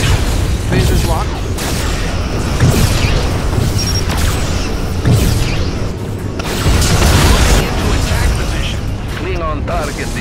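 Starship weapons fire and explosions rumble in the Star Trek: Legacy video game, with heavy booms and bursts rolling one after another over a dense, loud battle din.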